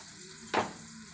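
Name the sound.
ginger and tomato added to sizzling pan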